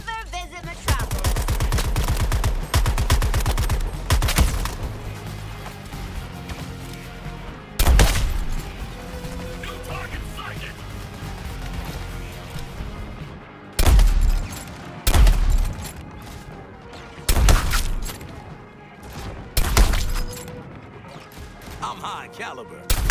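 Bursts of gunfire in the video game Suicide Squad: Kill the Justice League, loud clustered volleys with booming impacts breaking through a dense bed of game music and effects.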